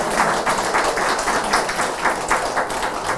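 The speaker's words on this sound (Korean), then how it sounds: "5분의 발제자 여러분께 다시 한번 뜨거운 박수 부탁드리겠습니다" Audience applause at a Korean art forum on normalizing the Korea Fine Arts Association, a steady dense wash of clapping from a crowd, moderately loud and unbroken throughout, with no talk over it.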